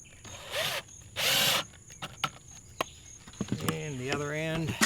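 A power drill drives a screw into the side panel of a concrete casting form for a rain splash block, giving two short whirring bursts before a person talks nearby.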